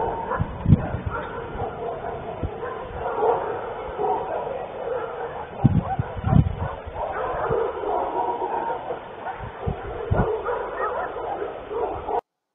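Dogs bark and yip repeatedly at a distance under a constant roar of wind and noise, their sharp calls breaking through in irregular clusters.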